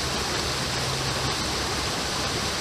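An East Tennessee creek flows steadily close by, a continuous broadband rush of moving water that holds even and unbroken throughout.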